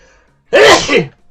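One loud, close sneeze, a short explosive burst standing alone in near silence.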